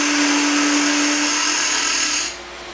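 A wood lathe spins a top blank while a tool makes a light cut of about an eighth of an inch, giving a steady, loud whirring hum that drops off abruptly near the end.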